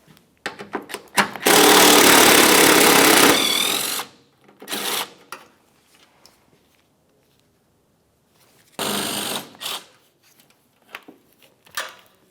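Power tool driving out the lower 8mm headlight mounting bolts on a 2010-2013 Ford Transit Connect, a loud whirring burst of about two seconds, then shorter bursts and a later run, with clicks and clatter between.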